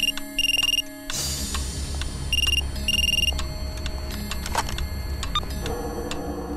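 Telephone rings on an outgoing call, repeated electronic trill bursts in a steady pattern, clear and fairly loud, with a busy film soundtrack beneath.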